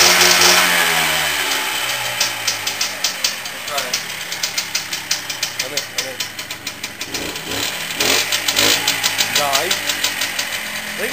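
A Minsk 125cc two-stroke motorcycle engine runs close by with a fast, ragged putter of pops and revs over a steady drone, while a voice talks over it.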